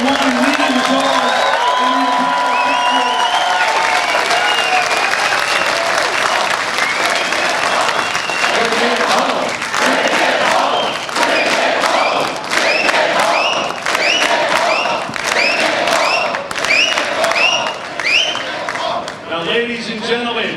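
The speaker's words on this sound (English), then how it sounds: "a round of applause for Adrian Woolley leading the charge" Sustained loud applause and cheering from a large crowd at a political convention rally in a convention centre, steady throughout with scattered whoops and an announcer's voice breaking in over the noise.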